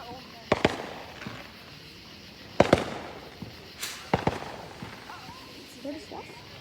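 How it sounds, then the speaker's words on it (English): Family fireworks display with several bursts going off, including two at once: sharp loud bangs and crackles at uneven intervals, some near and some farther off, with people talking and reacting between the blasts. "There's a lot of fireworks going off right now."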